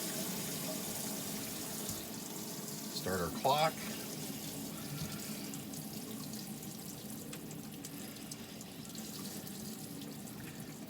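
Water runs from a tap in a NuCamp TaB 400 camper trailer fitted with an Alde water heater, a soft steady flow under brief nearby talk.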